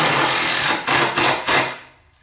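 A DeWalt power tool driving screws into a single bed frame, heard as three short whirring bursts in quick succession, close and loud, before the motor winds down to near silence.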